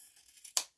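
Scissors trimming off small bits of fabric while sewing, a few soft snips building to one sharp close cut near the end, quiet and near, with no talking.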